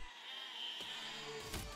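Sheep in Besiege bleat in two short calls with a wavering, nasal quality over a faint background hum, and no voices are heard.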